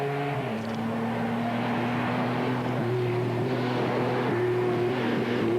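A Mitsubishi rally raid car on a stage of the 1994 Tunisia Rally Raid, its engine droning steadily at moderate distance with a gritty, continuous roar and slight shifts in pitch.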